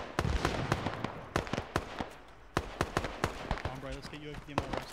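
Rapid bursts of rifle fire from the military video game Arma 3 crack out in quick irregular volleys, loud and close, while a voice speaks over them.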